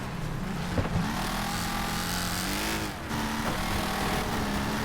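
Car engine revving and shifting pitch in a racing video game played with a PXN V900 steering wheel and pedals, a steady loud engine drone that rises and falls throughout, with no talk.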